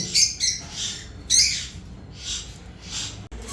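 Caged pet birds such as ringnecks, conures and lovebirds at a bird market, several shrill squawks and chirps in short bursts, fairly close, with no talk.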